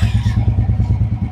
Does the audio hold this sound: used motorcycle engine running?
yes